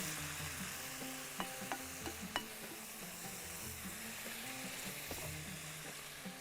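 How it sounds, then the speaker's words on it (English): Ingredients for daal being stirred together in a pan, a soft steady sizzle with light scraping and a few sharp utensil clinks against the pan, fairly quiet and with no talking. "Let's mix all together."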